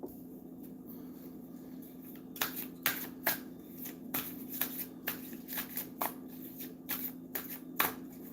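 Tarot cards shuffled by hand in a quiet room, a run of crisp riffling bursts and soft slaps coming in uneven clusters, close and alone with no talk.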